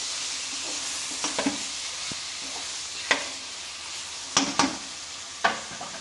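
Large chicken pieces cook in a pot on low heat and are stirred, with a soft, steady sizzle under scattered spoon scrapes and a few sharper knocks against the pot, close by and with no talk.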